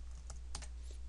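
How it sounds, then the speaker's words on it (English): Password typed on a computer keyboard: a few quick key clicks in two brief bursts over a steady low hum, close and fairly quiet with no talking. "that'll have you type in your password"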